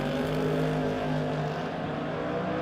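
Drag racing cars, an early second generation Camaro and a Vega, roar at launch on the strip, a loud, dense, sustained engine blast with rising revs heard from nearby.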